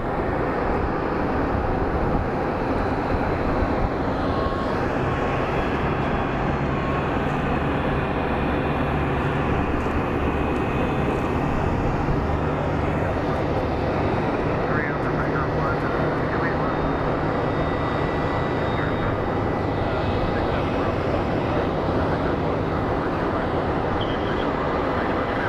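A jet airliner comes in to land at Phoenix Sky Harbor airport, making a loud, steady, broadband engine roar that fills the whole stretch without a break.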